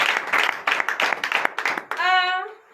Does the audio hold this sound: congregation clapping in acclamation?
yes